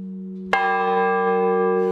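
A church bell in a bell tower strikes once, loud and close, over a steady hum of an already ringing bell, its rich metallic overtones sustaining without decay.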